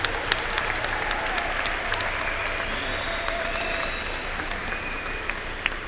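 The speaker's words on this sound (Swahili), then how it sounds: "Tuwapigie makofi" Audience applause at a church deanery family day, a steady sustained clapping from a crowd lasting the whole stretch with sharper individual claps poking through, with no talk over it.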